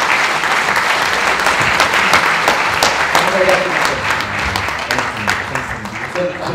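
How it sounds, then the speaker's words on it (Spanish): Audience applause at a cultural gathering with musicians, a dense steady wash of many hands clapping, close and loud throughout with brief voices mixed in. "Démosle un aplauso"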